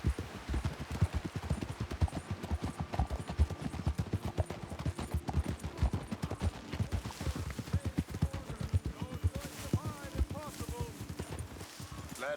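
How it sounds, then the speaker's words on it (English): A horse's hooves clip-clop in a steady rhythmic gait as it climbs a hill in Red Dead Redemption 2, with game sounds and a voice talking over the hoofbeats. "Now get back on our nice new horse."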